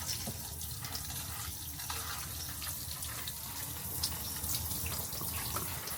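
Hot water pours steadily from a tap inside a converted bus, a continuous broadband splashing rush at close range with no voices over it.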